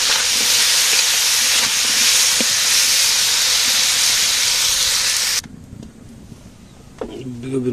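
Eggplant frying in a hot pan, a loud steady hiss of spitting oil that cuts off abruptly after about five seconds, followed by quieter low kitchen sounds and a voice at the end.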